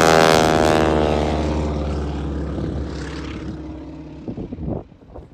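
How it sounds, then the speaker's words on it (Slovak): A loud 450-horsepower Pratt & Whitney radial engine on a Grumman G-164 Ag-Cat biplane roars close by at an airshow, then gradually fades as it moves away, with a few faint thumps near the end. "Ale počujete silu tohto motora, Pratt & Whitney, 450 konských síl."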